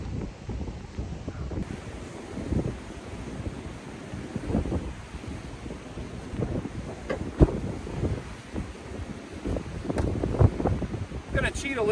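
Gusty wind buffets the microphone on a beach at Padre Island National Seashore, with rough irregular rumbling bursts, loud and close, and faint surf behind.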